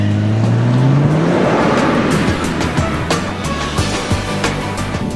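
A sporty car accelerates hard at around 80 mph, its engine note rising steadily under loud wind and road roar, with a brief swelling whoosh partway through.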